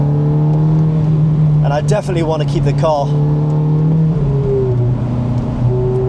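Ferrari F430 with a roughly 480 bhp engine droning steadily as it accelerates, a loud sustained engine and exhaust tone running beneath someone talking close by throughout.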